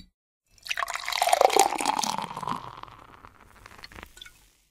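Sparkling spring water is poured from a freshly opened bottle, a gurgling, splashing stream that swells, then tapers off and trickles away at close range.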